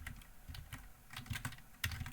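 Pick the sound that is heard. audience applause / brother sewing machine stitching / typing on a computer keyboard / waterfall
typing on a computer keyboard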